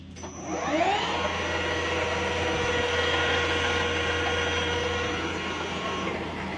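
A reversible three-phase electric motor spins up to 2000 rpm. Its whine climbs in pitch over the first second, then settles into a steady, close, continuous hum with no talk.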